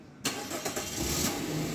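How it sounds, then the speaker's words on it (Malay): A Perodua Alza is started by remote auto start while parked and locked, giving a sharp crank and catch followed by a steady nearby idle, with no voices. "Engine start."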